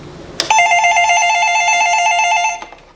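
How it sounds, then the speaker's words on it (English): A loud electronic ring from a telephone designed for people with dementia, one sustained bright multi-tone burst lasting about two seconds, close and clear with no talking. "I'm calling here and you'll see the ringing. So it's pretty loud."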